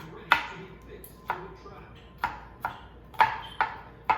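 A knife chops food on a cutting board in sharp, uneven strokes, about eight distinct hits over four seconds, close and fairly crisp against a quiet kitchen background.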